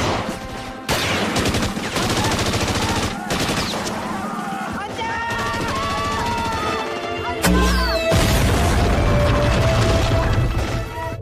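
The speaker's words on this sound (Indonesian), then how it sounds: "Barulah setelah itu mereka menembaki pasukan Belanda." Gunfire in a film battle scene as fighters shoot at Dutch troops, loud dense volleys and rapid bursts mixed with music and crashes that run almost continuously, with one sharp heavy impact partway through.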